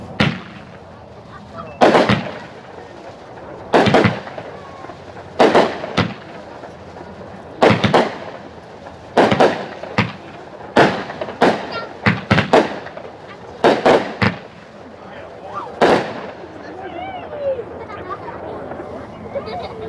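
Mission Complete, a 9-shot consumer firework cake, fires at a demo as a run of loud, sharp booming bursts spaced a second or two apart, with faint crowd murmur underneath.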